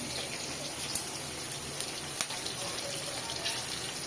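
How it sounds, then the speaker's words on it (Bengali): Green chilies and garlic fry in a pan with a continuous, soft crackling sizzle, fairly quiet and even throughout, with a few sharper pops. "কাঁচা ঝাল রসুন দিয়ে দিচ্ছি, এবার একটু এটা ভাইজে নিই ভালো করে"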